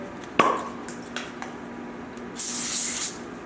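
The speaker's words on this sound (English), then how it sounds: "Give a little spray." A can clicks, then a short hissing burst of cooking oil spray onto aluminum foil follows after a few faint clinks, close and fairly quiet.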